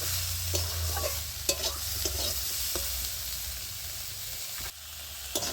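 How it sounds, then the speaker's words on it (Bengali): Flat beans with white sesame seeds fry in a pan, a constant loud sizzle broken by repeated sharp spatula scrapes and taps, with a low hum underneath. "তো শিমটা আমার ভাজা হয়ে গেছে"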